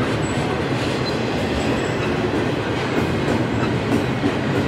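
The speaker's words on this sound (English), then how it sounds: "this is definitely a monster train" A long freight train with distributed power units in the middle rolls past close by, a loud, steady rumble with rhythmic wheel clatter and no talking.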